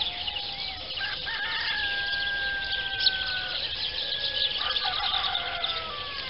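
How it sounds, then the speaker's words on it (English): Birds call in a rural setting, with long rising whistles and a rooster-like crow over a soft, steady background of outdoor ambience. "Listen to the birds."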